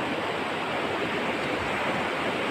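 River water flows in a steady, unbroken rush of broadband noise, close and moderately loud, with no voices over it.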